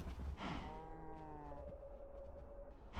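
A cow moos once in the video game Minecraft, played with the Enigmatica 6 modpack: a single long, clear, close low call that bends in pitch and trails off, with no talking over it.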